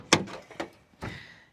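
Rear glass window of a truck canopy on a Nissan Frontier swinging up, a few sharp knocks and thunks of latch and hinge, close and fairly quiet with gaps between.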